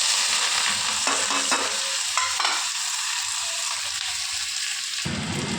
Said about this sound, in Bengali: তো কাঁচা লঙ্কা পেঁয়াজটা আমি ভালো করে নাড়াচাড়া করে নেব